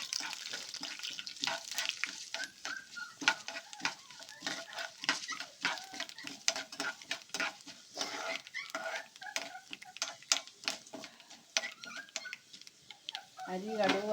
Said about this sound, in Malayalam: അരി കടുക് വറുക്കണമെന്ന് പറയാം